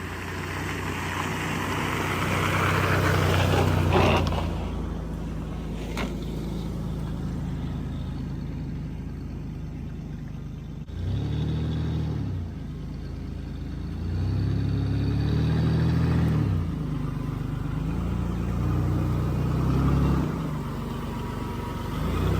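An old truck being driven, its engine rumbling at a moderate distance and revving up and down in several swells, with a few knocks near the start and no talking.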